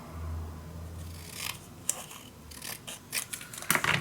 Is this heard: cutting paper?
yes